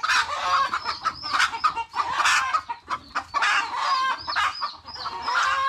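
Chickens cluck close by near their chicks, busy overlapping clucks and short calls in a steady jumble with a rooster-like crow mixed in, loud and near with no talking.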